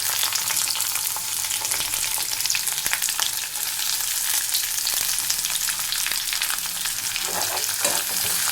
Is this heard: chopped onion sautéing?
yes